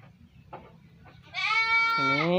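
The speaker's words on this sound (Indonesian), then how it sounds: "Ini ada domba Garut." A Garut sheep bleats in a farm pen, one long wavering cry rising out of low background murmur and ending the moment, close and clear.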